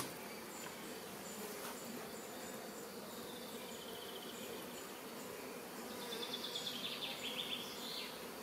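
Honey bees buzz steadily around a hive frame as it is lowered into the hive, a dense, soft, continuous drone with individual bees whining louder and closer near the end, with no voices.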